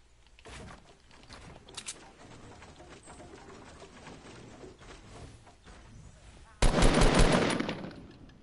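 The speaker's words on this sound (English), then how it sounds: "Oh, people are shooting me" Rapid bursts of video-game gunfire from a multiplayer shooter match crackle through the clip, with a loud, dense volley erupting near the end.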